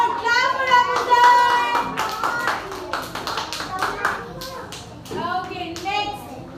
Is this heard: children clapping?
yes